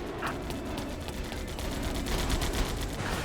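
Bombing and gunfire in a PS5 game, a steady wash of rapid shots and rumbling blasts at constant loudness, with dense rattling pulses running throughout.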